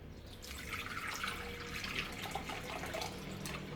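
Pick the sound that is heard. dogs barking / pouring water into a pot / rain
pouring water into a pot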